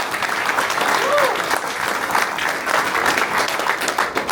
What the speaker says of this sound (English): Let's start with applause on the count of three.